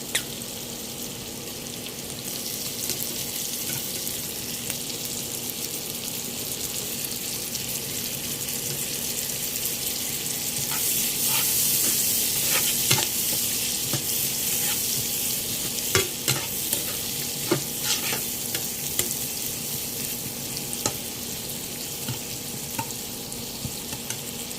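Shrimp fry with bitter gourd in a pan, a steady sizzle under repeated clinks and scrapes of stirring that grow busier midway, with a faint hum of running water in the background.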